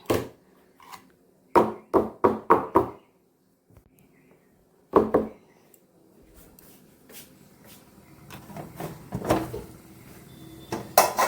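Items tapped one by one into a pan during home cooking, a series of sharp close knocks and clatters in quick bursts separated by pauses, followed by softer shuffling and scattered kitchen clinks.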